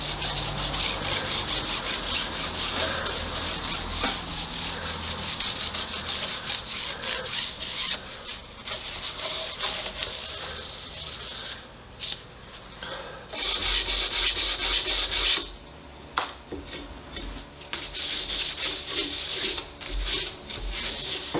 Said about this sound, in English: I'm using paste wax to protect the fretboard.